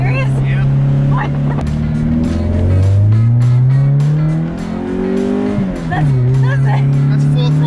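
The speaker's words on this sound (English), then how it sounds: "That's full throttle all the way down." A project car built as a sleeper accelerates at full throttle, its engine droning loud and close as the pitch climbs, dips at a shift, and climbs again, with voices inside the cabin.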